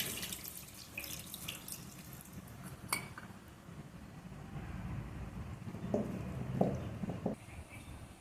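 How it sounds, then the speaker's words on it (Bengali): Water poured from a small bowl over chopped onion, garlic, spices and green chillies in a kitchen, while the maya fish is hand-mixed, a soft steady splash with faint clinks of utensils near the end. "মশলার বাটিটা দিয়ে সামান্য পরিমাণ পানি দিয়ে দিচ্ছি"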